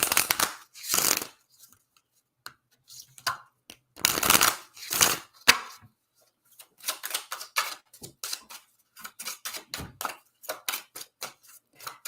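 Romance Angels oracle cards being shuffled: bursts of rapid riffling and flicking in uneven clusters, some loud and dense, others short taps, close by with no talking.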